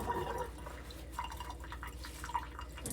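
Quiet splashing and dripping of water from a faucet as an almond milk bag is rinsed and squeezed out, soft and continuous with small sloshing bursts.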